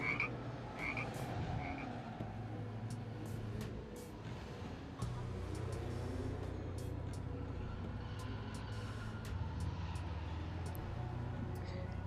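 Pog Frogs in GTA Online croak continuously in a thick chorus of low, throbbing calls, loud and close, with a brief dip around the midpoint.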